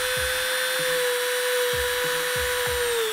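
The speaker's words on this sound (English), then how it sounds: "If you're using an aftermarket insole, it definitely helps to use a Dremel tool." A Dremel rotary tool cutting into an aftermarket ski boot insole, a steady high whine held throughout, close and loud, with a few low bumps and knocks from the work underneath.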